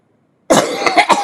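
A single harsh, close cough breaks out of silence, followed by a few rough throat-clearing bursts.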